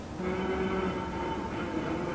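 A DC class diesel locomotive emerging from the Hutt railway workshops in New Zealand gives a steady low engine rumble with a faint droning tone, heard alone at moderate distance.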